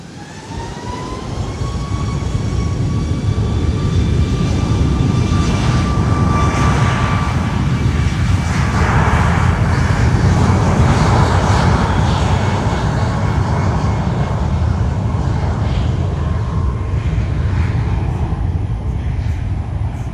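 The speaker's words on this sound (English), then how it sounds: "here goes the MAX heading to Miami, American 1329" A Boeing 737 MAX American airliner bound for Miami passes at San Juan airport, its jet engines producing a loud, sustained roar with a rising whine that swells and holds for the full twenty seconds.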